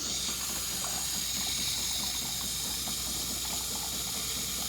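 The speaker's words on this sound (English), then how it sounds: "Nice froth coming out of the frother." The milk frother on a Jura Z6 coffee machine siphons milk through its hose and steams it, giving a continuous close hiss with a watery, bubbling texture that stays even throughout.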